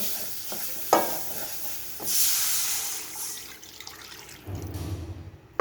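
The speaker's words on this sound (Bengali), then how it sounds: "এ পর্যায়ে আমি এর মধ্যে পানি দিয়ে দিব" Water splashes into spice paste frying in oil for a rohu fish curry, giving sharp clatters and a rising hiss and sizzle, then a low bubbling simmer, with no talk.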